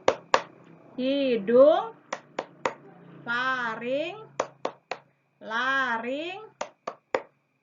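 Children's rhythmic clapping song about the breathing system, with sharp hand claps in a steady pattern punctuating sung words, including double claps between chanted phrases.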